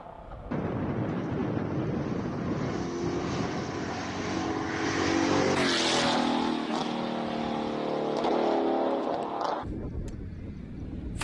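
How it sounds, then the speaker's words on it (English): A BMW V10 race car launches from the start line of a hill climb at the Speed Classic in Cape Town, its engine rising into a sustained, loud howl that holds and then fades away into the distance. "Glorious sound of a BMW V10 launching"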